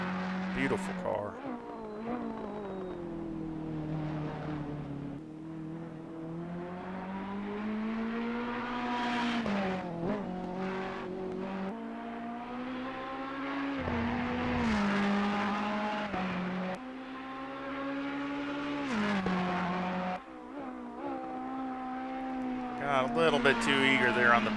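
Ferrari 488 Evo GT3 race car in Assetto Corsa Competizione, its engine droning and revving continuously with rising and falling pitch through gear changes, loud and close, while someone talks over it throughout.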